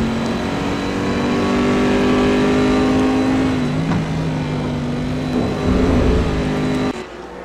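Corvette C6R GT race car engine in a racing video game at Hockenheim, a loud sustained high-revving drone with shifting pitch as it holds speed, dropping off abruptly near the end.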